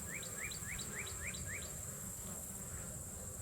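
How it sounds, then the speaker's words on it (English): A steady bee buzz fills the background near a hive, with a quick run of short chirping calls near the start and low rumbling noise underneath throughout. "look at them bees coming"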